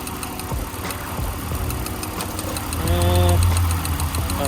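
BMW E46 engine idling with ignition coil number two unplugged, a close, rough, uneven running note with knocking pulses, rising briefly in level partway through.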